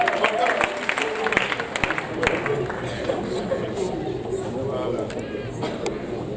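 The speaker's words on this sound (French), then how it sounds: "On va l'applaudir" A congregation at a Mother's Day church service briefly applauds a prize winner. Scattered clapping fades quickly under crowd chatter and a speaking voice, with murmuring continuing throughout.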